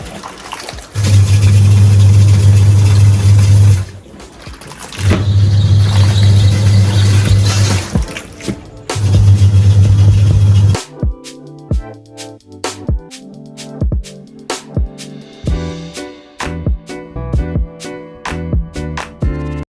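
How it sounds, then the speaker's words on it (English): A fully automatic washing machine runs its spin cycle with loud, steady droning hum bursts separated by pauses, then shifts to intermittent clicks and knocks as the drum slows. "The sound of the machine when you want to spin."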